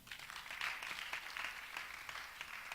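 A church congregation applauds during a worship service: a brief, even wash of many hands clapping, soft and somewhat distant, with no voices standing out.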